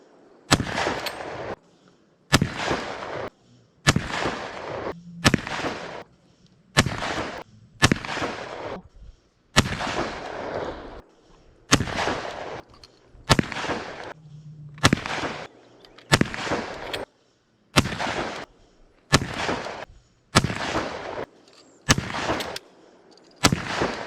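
Shotgun blasts at a clay shooting session with a Tristar Upland Hunter EX Silver, about fifteen loud, close reports spaced a second or two apart, each followed by a brief ringing tail, with short quiet gaps between.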